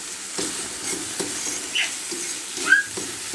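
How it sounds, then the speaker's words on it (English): Red and yellow onions, red, yellow and green bell peppers and several garlic cloves sauté in a pan under a steady close sizzle, broken by regular spoon scrapes and stirs and a small squeak near the end. "we have our onions, red onion, yellow onion, red and yellow and green bell peppers, and at least 5 cloves of garlic being sauteed in"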